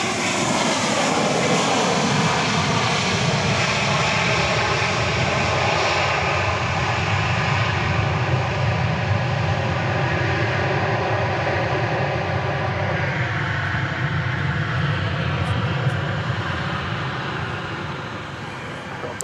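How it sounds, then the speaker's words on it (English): A Boeing 737-800 jet arriving at Dallas Love Field after dark from Baltimore/Washington International, a loud, continuous engine roar with a steady rumble that holds throughout and eases slightly at the end. "Arriving now from Baltimore, Washington International Airport. Flight 2071. 737-800."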